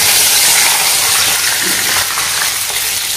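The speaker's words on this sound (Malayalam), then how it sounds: "ഈ കപ്പ് പാല് അതിൽ ഒഴിച്ചു" Milk is poured from a cup into a hot pan of laddu mixture, giving a loud, close, continuous sizzle and bubbling gush that lasts throughout.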